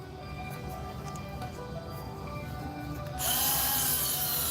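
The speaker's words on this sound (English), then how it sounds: "I'm not really confident in my engraving skills with the Dremel." A Dremel rotary tool engraving a small mark, steady high-pitched whine that jumps louder and brighter near the end as the bit bites harder, heard close with no talking.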